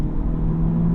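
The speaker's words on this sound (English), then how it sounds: "we'll do a little entrance ramp acceleration." A 2024 Honda Civic Touring accelerating hard up a highway entrance ramp at full throttle, a steady low engine drone and road rumble heard from inside the cabin for about a second, with no talking.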